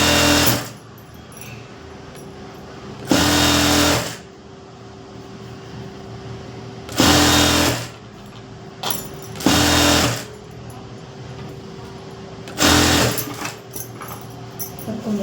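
A sewing machine stitches blouse lining in short loud bursts, about five of them, separated by quieter gaps with faint background hum.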